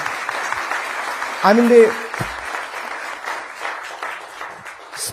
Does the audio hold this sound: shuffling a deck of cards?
no